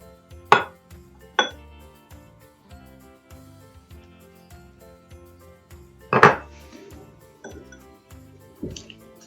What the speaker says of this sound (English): Then you just stir it in until it looks like sort of like that.